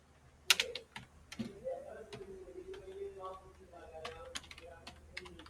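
Computer keyboard typing while coding a PHP MySQL admin panel, sparse close clicks and taps mixed with soft background murmuring and a voice.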